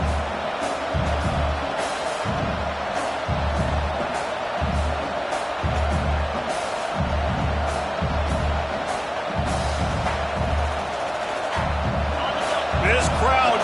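A college football stadium crowd at an Oregon NCAA game roars in a sustained, dense wall of cheering, with a low rhythmic pounding and stomping under it and a commentator's voice over the top.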